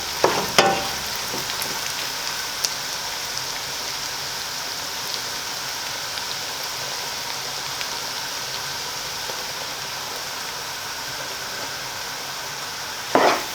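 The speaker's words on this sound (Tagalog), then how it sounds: "Haluin po natin, check po natin pag okay na yung ating bawang at sibuyas." Garlic and onion sautéing in a pan for a Batanes-style valenciana, giving a steady, loud frying sizzle from start to end, with a few sharp stirring clinks near the start and again at the very end.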